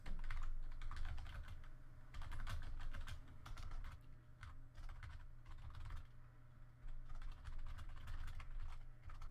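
Continuous rapid typing on a computer keyboard, steady clicking keystrokes at close range with no talking.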